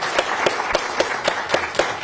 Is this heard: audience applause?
yes